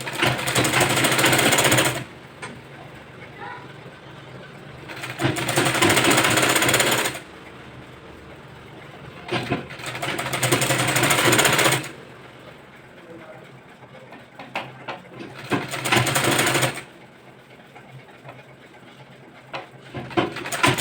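A sewing machine stitches a boat neck blouse in several loud, steady bursts of fast mechanical whirring and rattling, each lasting a few seconds, with quiet pauses and someone talking between them.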